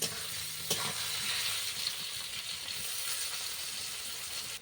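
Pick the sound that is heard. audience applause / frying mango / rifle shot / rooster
frying mango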